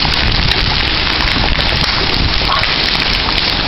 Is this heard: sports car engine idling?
no